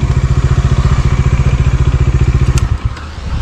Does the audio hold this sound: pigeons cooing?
no